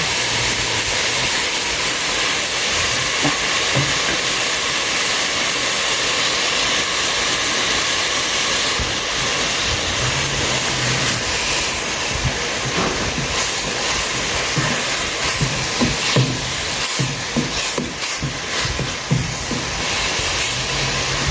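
A pot of Thai bamboo-shoot fish curry boils hard, giving a loud, continuous hissing roar with scattered bubbling pops and spatters that thicken toward the end.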